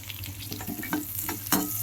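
Shallots, curry leaves and finely chopped garlic sautéing in a pan, a steady sizzle with a few scraping stirs and one sharper clatter near the end.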